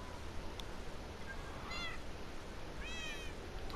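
A talking kitty cat meows twice, two short rising-and-falling cries a second or so apart, fairly faint over a soft background hiss.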